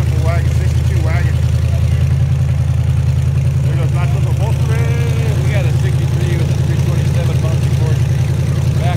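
A 1962 station wagon idles up close at a car show, its engine a steady low rumble under continuous nearby chatter and crowd voices.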